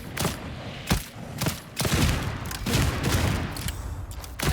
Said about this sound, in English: This is the Mark 6. So you can basically pretty much shoot a horde with this.